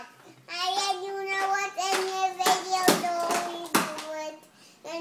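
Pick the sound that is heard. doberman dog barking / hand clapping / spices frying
hand clapping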